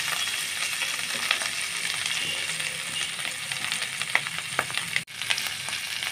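Spice paste sautés in hot oil for a vegetarian soybean and vegetable dish, giving a bright continuous sizzle with scattered pops and a few light utensil taps, and a short clunk near the end.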